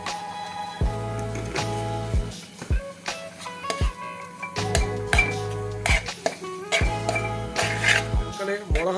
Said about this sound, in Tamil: அழகாக 2 கிண்டு கிண்டுங்க